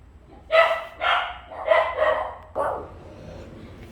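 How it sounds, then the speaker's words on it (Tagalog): A dog barks several times in quick bursts, loud and close, followed by a softer trailing bark, with no talking. "Daming aso"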